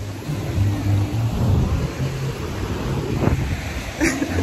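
Ocean surf breaks at a beach resort in Ghana, a rough washing roar mixed with heavy wind buffeting the microphone, with no talking.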